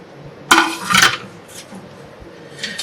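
Fried potatoes tipped into a pot of Bengali mutton curry, a sharp metallic clatter and clink against the pot followed by a second burst of knocks and a faint scrape, with no talking.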